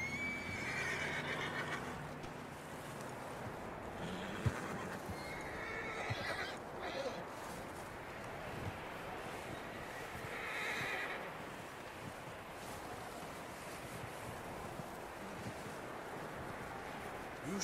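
Horses whinny and neigh up close in Red Dead Redemption 2, with hooves clopping under a steady wind. A few short voices break in over the long, continuous outdoor ambience.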